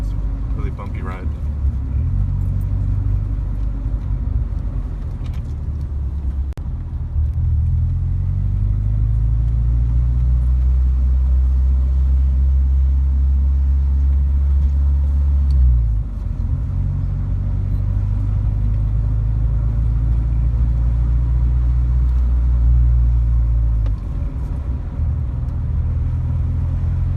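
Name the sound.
Subaru Impreza 2.5RS GC8 engine and exhaust while driving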